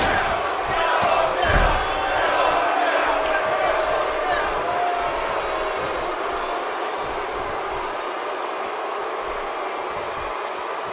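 Steady crowd roar and cheering from a WWE 2K18 wrestling match fills the scene, loud and continuous with a brief burst near the start, while a commentator-style voice talks over it.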